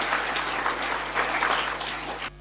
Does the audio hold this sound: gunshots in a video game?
no